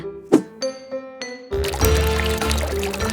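Watermelon juice poured from a jug, preceded by a few light clinks of glass; then a steady, full gush of liquid runs close and continuous for over a second and a half.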